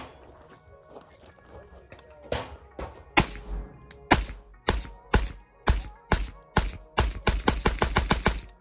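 Rifle shots from a PSA Sabre fired through a SilencerCo Velos LBP suppressor outdoors, starting as a few spaced shots and then a rapid string of sharp, loud suppressed reports, with some quiet talk early on.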